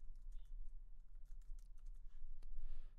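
Quick, light keystrokes on a computer keyboard, a rapid irregular run of clicks close up over a low background hum.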